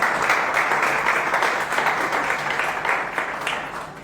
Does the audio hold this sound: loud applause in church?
yes